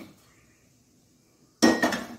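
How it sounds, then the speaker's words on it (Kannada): After a near-silent pause, a heavy iron pan lands on a gas stove with a single loud clang and clatter, ringing briefly before fading. "ಒಂದು ಕಬ್ಬಿಣದ ಬಾಣಲೆಯನ್ನು ಇಟ್ಟಿದ್ದೇನೆ."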